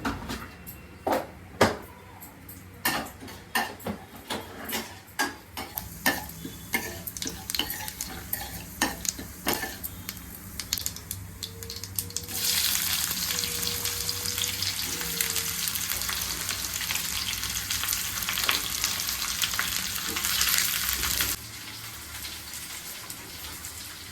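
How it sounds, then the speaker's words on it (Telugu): Whole spices for tempering fry and crackle in a pan on the stove, with irregular stirring clatter in the first half, then a steady loud sizzle that hisses on before stopping abruptly. "స్టవ్ ఆన్ చేసి ప్యాన్ పెట్టుకొని పోపు దినుసులన్నీ వేసి మంచిగా ఫ్రై చేసుకోవాలి"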